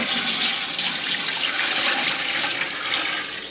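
Hot tap water gushing steadily from a faucet into a homebrew pot, a continuous loud hissing rush that holds for the whole stretch with no voices.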